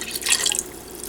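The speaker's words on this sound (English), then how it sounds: "Then I put in a can of beef broth, Swanson's beef broth, the whole thing." Canned Swanson's beef broth being poured into a soup pot, a short wet splash and trickle of liquid, close and moderately loud, heard alone.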